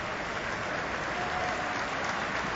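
Football crowd at an HJK Helsinki versus FC Lahti match applauding a substituted player, a steady wash of clapping from a large stadium audience, continuous and even throughout.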